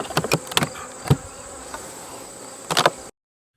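Honeybees in an opened, storm-damaged hive make a close, continuous buzz under sharp clicks and knocks from the hive box, with the sound cutting off abruptly at the end.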